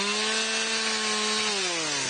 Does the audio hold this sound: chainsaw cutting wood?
yes